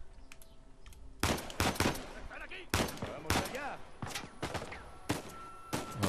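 Several bursts of rapid gunfire in Uncharted 4 on PS4 crackle through the clip, separated by short pauses, with faint background noise between volleys.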